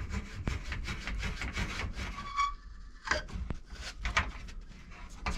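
Copper pipe edges deburred by hand, giving close, uneven rasping and scraping strokes in short bursts with brief pauses, a quieter gap near the middle and a sharp tap partway through.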